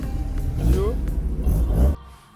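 A Caterham car drives on a race circuit, its mid-pitched engine revving loudly close by before cutting off sharply, with voices present.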